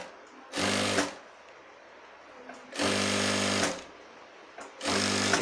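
A sewing machine stitching a shirt runs in three bursts of even, rapid whirring, each about a second long, with brief pauses between them. It is close and fairly loud and no one talks.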